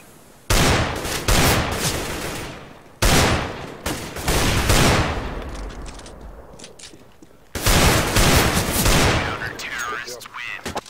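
Desert Eagle pistol fire in a competitive Counter-Strike-style shooter comes in loud, dense bursts of rapid shots, three main volleys separated by short pauses, with a voice speaking between them.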